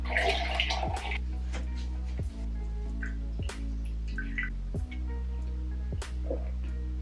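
Water pours into a mug in a home kitchen, a soft continuous trickle with small clinks and drips, fairly quiet and close, with no talking.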